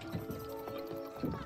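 Horse hooves clip-clopping in a quick rhythm during a horse derby race in It Takes Two, a short burst of galloping with a brief voice over it.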